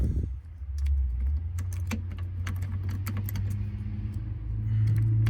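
New keys jangle and click in the ignition column of a Dodge Power Ram 4x4, a series of sharp metallic ticks and rattles over a steady low engine hum, close and fairly quiet.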